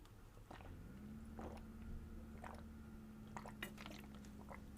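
A person drinks water in several small sips and swallows, soft wet gulps spaced out over a low steady hum, with no talking.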